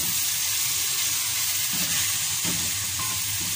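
Chopped tomatoes hit a hot pan of mixed vegetables, and a dense, steady sizzle with a hissing, watery edge carries on loud and close, with no voices.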